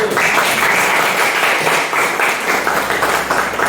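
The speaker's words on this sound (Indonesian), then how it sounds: "beri aplaus pada kelompok 1" Classroom applause for a student group after its presentation, a dense, loud, steady wash of many hands clapping together, lasting a few seconds without speech.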